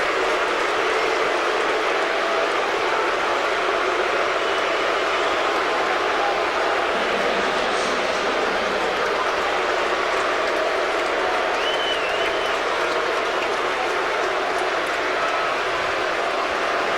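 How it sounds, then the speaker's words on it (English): Baseball crowd at a 2003 Phillies versus St. Louis game cheers Jim Thome, a broad, steady roar of applause and voices that carries through the whole stretch, loud and continuous with faint background murmur. "And they cheer Thome"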